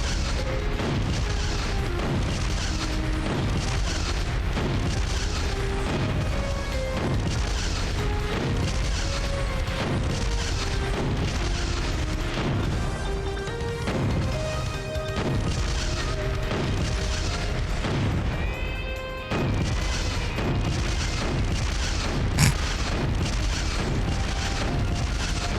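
In the video game Killer7, grenade explosions boom in a steady, regular series of loud, heavy thuds, one after another for a long stretch, layered over a tonal musical background.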